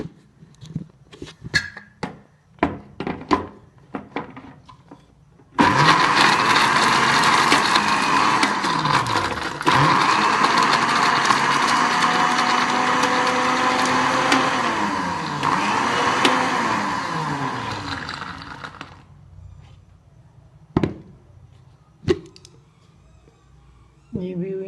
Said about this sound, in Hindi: अब हम इसको ब्लेंडर में डालते हैं